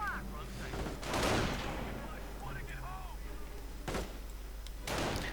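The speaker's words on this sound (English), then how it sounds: "Further sniper fire." Gunfire from a sniper and an MG-42 machine gun in a war strategy video game rings out in a few sharp bursts and distant bangs, mixed with game ambience and voice chatter.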